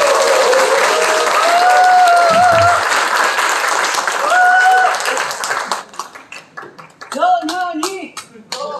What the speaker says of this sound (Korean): 큰 박수로 모십니다.